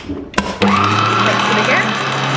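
Electric mixer beating chocolate banana cake batter, starting after a brief bump and then running with a steady, loud motor whir for about two seconds.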